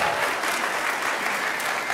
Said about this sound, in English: Can we give these amazing teachers a round of applause?